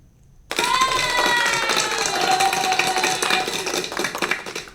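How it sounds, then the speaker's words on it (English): Applause breaks out abruptly after a short silence, a dense patter of hand clapping that stays loud and sustained before loosening toward the end. "Hand clap for you."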